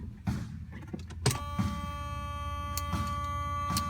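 A 1984 Mercedes 380 SL, a two-owner car with original mileage, starts cold and settles into a steady, close idle with a sustained tonal whine and a few sharp clicks on top.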